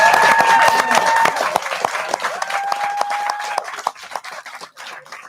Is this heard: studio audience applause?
yes